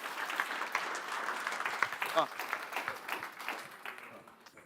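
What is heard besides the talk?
audience applause for Brie at a marketing conference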